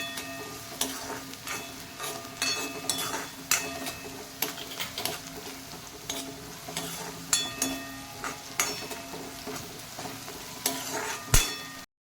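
Onions frying in oil until golden brown for a dried bombil (Bombay duck) curry, a steady close sizzle broken by sharp clicks and scrapes of a spoon stirring against the pan.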